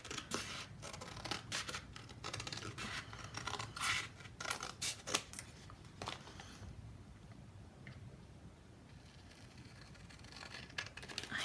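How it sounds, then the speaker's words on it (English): A paper cutter slices planner pieces from printed paper in a run of close, crisp scraping and snipping strokes, irregular and bunched in the first half, then thinning to occasional faint scrapes over quiet room tone. "I'm really struggling just because of this dang cutter"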